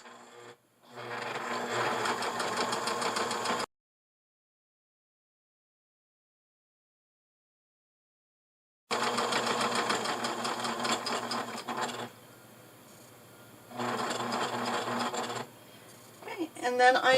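A sewing machine stitches along a chalk line on a dog bandana in fast, steady bursts, stopping for a long silent pause before resuming with several more runs of stitching.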